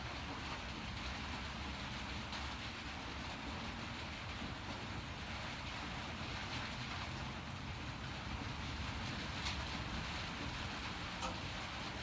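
Steady rain falls on an old treehouse, producing a continuous, even hiss that holds at a moderate, distant level with no pauses or voices.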